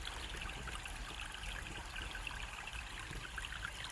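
Water runs steadily through a gold-prospecting sluice outdoors, a continuous broadband rush and trickle that holds even and fairly loud with no pauses.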